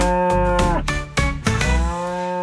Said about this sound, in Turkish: inek gibi möle